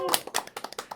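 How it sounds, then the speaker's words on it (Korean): A short burst of welcoming applause at a school gathering, a handful of sharp separate claps in an uneven rhythm lasting about a second. "자, 환영의 박수 갈까요?"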